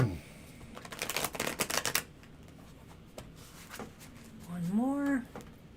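A brief riffling flutter of tarot cards being shuffled, close and quick, followed by quiet handling sounds and a short spoken voice.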